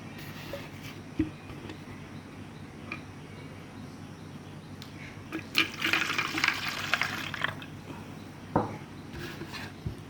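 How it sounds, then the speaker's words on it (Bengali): Water poured into a container for young brooding chicks, a brief splashing trickle midway through a quiet stretch of faint handling knocks. "এখন এটার ভিতরে আমি"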